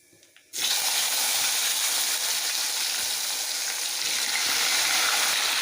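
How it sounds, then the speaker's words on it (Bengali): Five-spice seeds hit hot leftover fish-frying oil after a brief quiet moment, bursting into a loud, steady sizzle that holds evenly to the end, with no voices. "এই মাছ ভাজার তেলটার মধ্যে আমি এখন আমি পাঁচফোড়ন ফোড়ন দিয়ে দিলাম"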